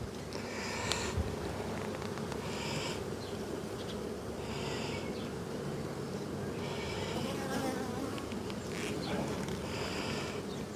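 Honey bees buzzing steadily around an open beehive during a live hive inspection on a windy day, a dense continuous hum with a few louder bees passing close, wind noise underneath.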